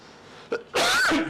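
A short throaty catch, then one loud, harsh dry cough close to the listener, with no talking.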